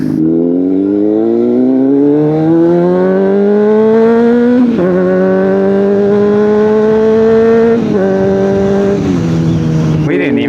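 Honda CBR600RR motorcycle with a cheap aftermarket exhaust, no catalytic converter and no servo, revs up in long rising sweeps, loud and close, dropping and climbing again in harsh raw bursts.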